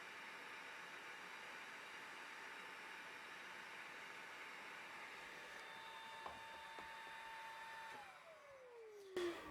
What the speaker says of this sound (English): It works pretty good with the battery-driven vacuum cleaner.